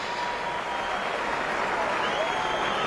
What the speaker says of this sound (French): regardez la sportivité des supporters belges, hein, vous l'avez vu, applaudissements francs